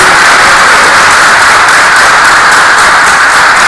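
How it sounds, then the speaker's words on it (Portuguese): Loud, dense applause from a large crowd, continuous clapping filling the space with no voices standing out. "Vamos aplaudir ao Senhor Jesus bem forte nessa hora"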